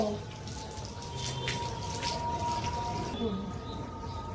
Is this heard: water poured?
yes